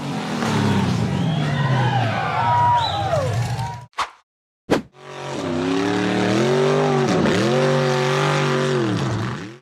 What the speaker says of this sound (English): The gray buggy pushed hard to climb through a narrow, rugged mud trench between two steep walls.